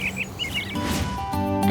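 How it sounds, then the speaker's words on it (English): Small birds chirp in quick, high twittering bursts, fairly close, near a cup nest, fading into a low murmur with a faint hum underneath. "Did you hear the sound that the birds were making?"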